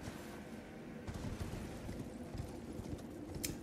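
Horse hooves gallop in the video game Elden Ring, a steady, muffled clatter under a low, rumbling background.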